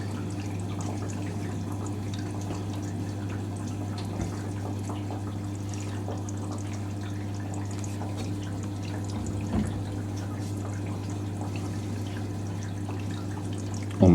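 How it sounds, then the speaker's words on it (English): Hoover A3060 Electronic 1100 washing machine filling with water for its second rinse, a steady faint rush and trickle of water over a constant low hum, with a brief clunk at the end. "I'm almost full on the second rinse"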